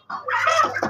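A chicken at a poultry market gives a short, close, loud burst of clucking lasting about a second.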